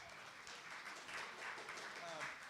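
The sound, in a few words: audience applause at a meetup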